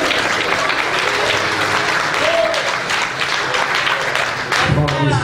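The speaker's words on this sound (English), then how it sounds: "Can you just clap your hands and tell the Lord thank you?" A congregation clapping hands at a memorial service in church, sustained loud applause-like clapping with voices calling out over it, and a brief spoken exclamation near the end.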